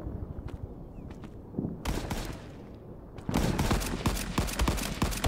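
Rapid bursts of submachine-gun fire, PPSh among them, crackle in a World War 2 battle combat game, sparse shots at first, then dense overlapping volleys that grow louder and nearly continuous toward the end.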